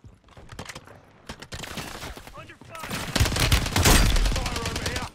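Rapid bursts of gunfire from the video game Call of Duty, first sparse sharp shots, then dense sustained automatic fire that grows louder toward the end, with voices talking underneath.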